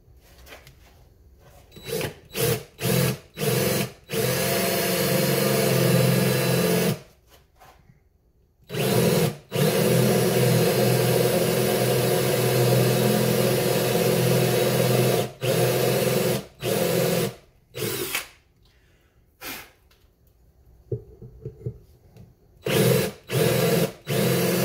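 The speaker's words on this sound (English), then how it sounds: "I use 3/4 inch Forstner bit." A drill with a 3/4 inch Forstner bit bores a center hole in wood for a pumpkin box, whirring loudly in repeated bursts with short pauses and longer steady runs, and no talking.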